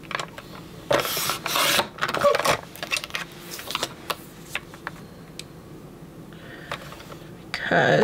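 Scissors or a paper trimmer slice and rasp through photo prints being cut down to 4x4 size for a travel album, with irregular scraping and rubbing close by and some quiet shuffling between cuts.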